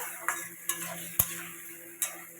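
A spatula taps and scrapes a pan at intervals while ground cumin, chilli, coriander, turmeric and salt are sautéed with tomato, with a faint sizzle underneath and about four sharp clinks.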